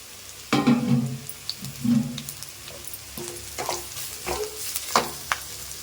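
Cabbage, carrot and beans sautéing for egg fried rice, stirred in a hot pan: uneven scraping strokes and soft sizzling, close and moderately quiet, with no talking.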